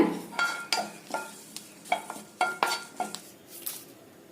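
Curry leaves being dry roasted in a pan for pirandai podi, with a spoon repeatedly scraping and stirring in irregular clattering strokes, close and fairly quiet, with no talk.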